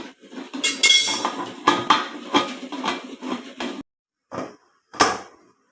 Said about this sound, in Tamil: மூடி போட்டுக்கலாம்